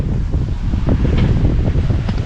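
Strong wind gusts buffet a sailboat at sea in the Mediterranean, a continuous loud rumbling roar across the microphone with water wash underneath.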